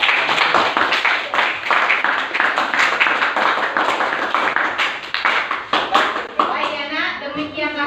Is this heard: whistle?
no